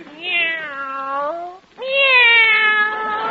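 Two long, clear cat meows follow one after the other with a brief pause between them. Both are loud and close, in a room where pet cats are kept near white mice, and nothing else is heard behind them.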